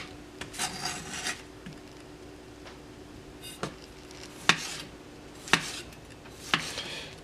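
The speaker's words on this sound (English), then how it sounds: "most tomatoes don't cut this easy, so that lets you know how sharp this knife is" A sharp chef knife slices through a tomato in a string of soft rasping cuts, and several crisp taps follow as the blade meets the board, close and quiet with no talking.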